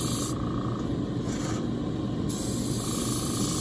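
Spray paint hisses in bursts onto an AT-ST model, a close, fairly quiet aerosol spray that starts and stops a couple of times over a few seconds.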